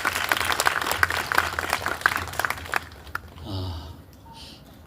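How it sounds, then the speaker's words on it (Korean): Applause from the audience at an outdoor memorial ceremony marking a ferry disaster anniversary, a burst of clapping that fades out after about three seconds, followed by brief indistinct talk. "정말로 감사드리고 한번 박수 한번 해주셨으면"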